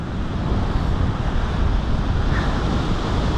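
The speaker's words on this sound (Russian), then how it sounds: "Давайте хотя бы покажу вам штормящее море." Stormy sea surf on the Crimean coast, a continuous broadband roar of crashing waves mixed with heavy wind buffeting the microphone, loud and unbroken throughout.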